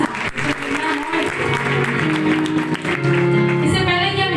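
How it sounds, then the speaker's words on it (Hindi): A church congregation applauds to welcome returning members, with sustained clapping at moderate level and a voice talking over it at times. "हम उनको भी भरपूर तालियों के साथ अपने चर्च में वेलकम करेंगे।"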